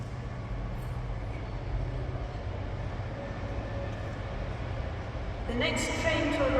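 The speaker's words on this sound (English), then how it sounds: "Train coming in right over there." Train arriving at Newcastle station, with a low rumble building steadily in the distance and sharper squeals near the end as it draws closer.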